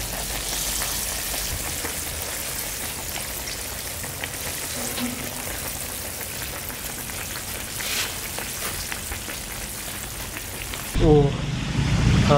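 Chicken pieces deep-frying in boiling oil for a Vietnamese dish, a steady dense sizzle and crackle that runs loud and close for about eleven seconds before a sharp cut to a quieter, different sound at the end.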